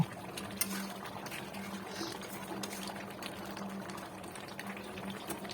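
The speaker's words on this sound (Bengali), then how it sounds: "এইভাবে আমি আরও কিছুক্ষণ ফুটিয়ে নেব" Crab masala curry simmering and reducing in a pot, a steady low bubbling with soft popping and a constant faint hum underneath, close and even throughout, no speech.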